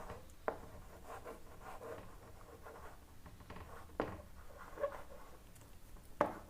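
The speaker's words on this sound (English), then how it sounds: "So we'll write the problem here." A marker or chalk scratches and taps across a board as an engineering beam problem is written out. The faint strokes rub and squeak in short bursts, with a few sharper taps, in a quiet room without talk.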